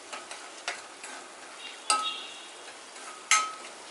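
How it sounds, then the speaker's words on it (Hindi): Golden-brown onions with Kashmiri red chili powder and degi chili powder frying in a pan for dhaba-style lobia sabji, a steady close sizzle broken by several sharp spatula scrapes as the mixture is stirred, with no talk. "प्याज गोल्डन ब्राउन हो जाए तब तक इसे भून लेते हैं।"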